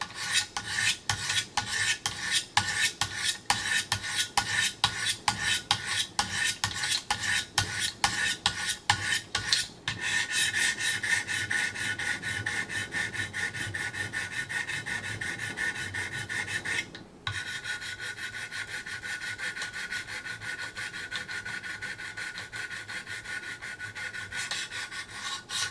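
A knife blade is stroked steadily against 600 grit stones on a Wicked Edge precision sharpener, a continuous rhythmic rasping that runs fast and choppy at first, then smooths into a sustained grinding scrape, close and loud with no talk.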